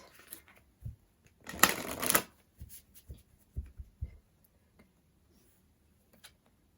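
A deck of cards shuffled by hand for a card reading makes a close, quick riffling burst lasting about a second. Soft taps and clicks follow as the cards settle, then near silence.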